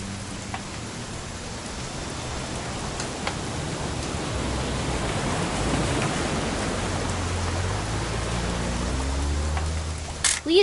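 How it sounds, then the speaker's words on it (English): Steady rain from the video game What Remains of Edith Finch falls as a dense, even hiss, continuous and moderately loud, with faint low rumbling underneath. "It's gonna rain the whole weekend, isn't it?"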